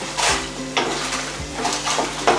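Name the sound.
dried red chillies added to hot oil in a pan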